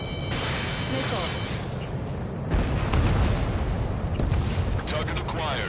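Missiles striking targets in an aircraft combat video game, heavy booming blasts and rumbling explosions layered over continuous game noise, louder burst midway, with a voice talking over the action.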